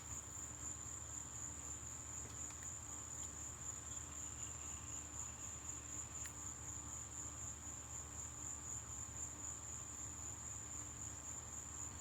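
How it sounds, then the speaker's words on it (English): Crickets chirp at night in a steady, high, continuous trill, faint and distant over a low background hum, with nobody talking. "Listen to the crickets."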